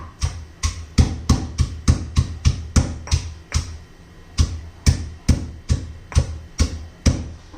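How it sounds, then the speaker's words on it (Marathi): Onion being coarsely crushed for thecha, a series of sharp, close pounding thuds in a steady rhythm with a short pause midway, no talking. "कांदा पण थोडासा असा ठेचून घ्यायचा आहे"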